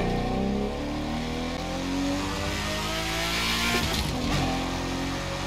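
Lamborghini Diablo GT driven in a photorealistic open-world game, heard from an outside view: a loud, sustained engine roar with rising and falling revs and a brief tire-squeal-like rasp partway through, no talking.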